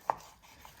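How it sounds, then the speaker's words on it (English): A single sharp chop of a knife through meat while it is cut into small cubes, close and brief, followed by a faint softer tap and quiet room tone. "You're going to want to start by cutting your meat into small"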